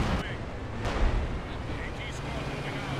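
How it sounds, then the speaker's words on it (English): Artillery fire lands on a target during a 4v4 Company of Heroes battle at Essen Steelworks, dense rumbling blasts and booms layered over one another, heard beneath excited talking. "I got an artillery piece hitting it."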